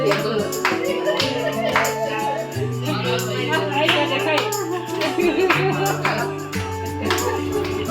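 A family claps along to rhythmic beats while a little one dances at an evening gathering in Tumling, on the way to Sandakphu. Steady, repeated claps cut through sustained music, with voices in the mix.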